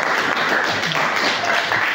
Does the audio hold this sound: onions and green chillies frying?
no